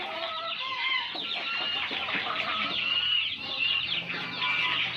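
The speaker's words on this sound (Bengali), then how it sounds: "এটা একটা মুরগি," A backyard hen clucks close by, with repeated busy clucks and calls running through the whole stretch.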